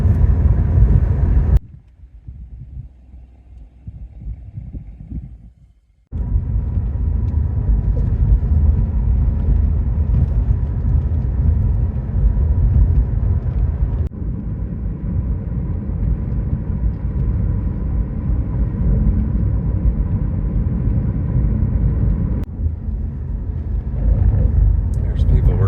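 A car drives through a lithium mine past lithium evaporation pools, its engine and tyre rumble droning loud and steady with wind buffeting the microphone, interrupted by a quieter stretch, while people talk over it.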